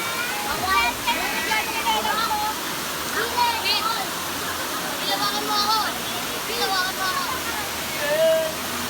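A waterfall at a swimming spot in Osiao, Sorsogon City, Philippines, roars as a steady wash of rushing water while several people chatter and call out over it.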